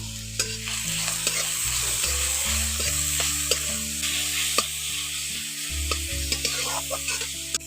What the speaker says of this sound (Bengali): ওর মধ্যে দিয়ে একটু ফুলকপিটাকে ভেজে নেব